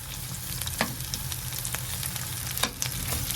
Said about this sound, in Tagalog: Igisa na natin yung sibuyas.